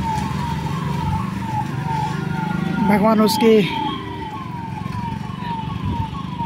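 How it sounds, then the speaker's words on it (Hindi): An ambulance siren wails repeatedly through a heavy traffic jam at a red light near Noida Sector 82, rising and falling over the steady rumble of idling traffic, while someone talks over it nearby. "एम्बुलेंस जा रही है"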